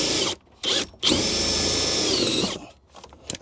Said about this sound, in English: I'm gonna start the drill at a straight 90-degree angle, but then I'm gonna curve it down